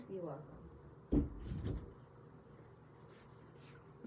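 A door bangs open or shut with a short, fairly loud knock and rattle, followed by a softer second knock, heard indoors against a quiet background.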